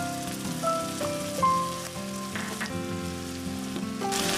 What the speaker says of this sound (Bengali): এবার আমি টমেটো পেস্টটাকে দিয়ে আরো ভালোভাবে নেড়ে চেড়ে